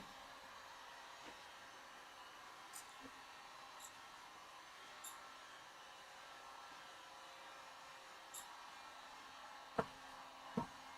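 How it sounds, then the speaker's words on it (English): A heat gun runs steadily as a constant broadband hiss, with a few faint clicks and taps near the end and no one speaking over it. "the heat gun really messes up the audio"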